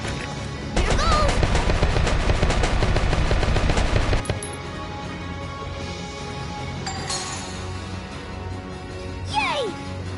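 Rapid automatic gunfire from Valkyria Chronicles gameplay, a loud dense burst of a few seconds that cuts off abruptly, followed by quieter ambience and a brief whooshing sweep near the end.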